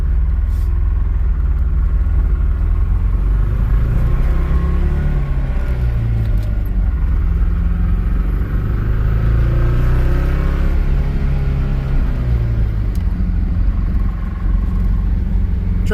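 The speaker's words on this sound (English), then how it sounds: "This thing's coming on boost really well." A 1982 Porsche 924 Turbo pulls hard down the road from inside the cabin, its engine rumbling loud and steady while the pitch climbs and falls with each gear.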